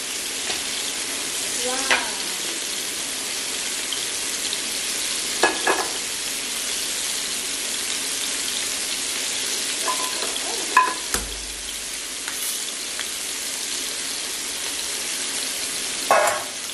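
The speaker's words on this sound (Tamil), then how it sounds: "இப்போ இன்னொரு இதுல வானல்ல நம்ம மீனும் வறுத்து எடுத்துப்போம்" Fish frying in oil in a pan, a loud, continuous close sizzle with a few brief clicks and scrapes rising out of the steady hiss.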